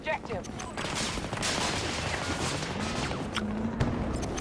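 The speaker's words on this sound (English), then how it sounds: "Alright, now they're shooting at me?" Gunfire in the video game Battlefield 2042, a dense, faint crackle of rapid shots and distant bursts running throughout the short stretch of combat.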